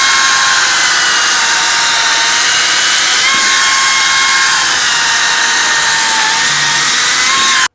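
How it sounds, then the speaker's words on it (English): A Makita 36V cordless battery chainsaw runs steadily at high speed, a loud, close, continuous whine that holds level with no pauses and no voices. "This is what I consider to be the first real battery chainsaw."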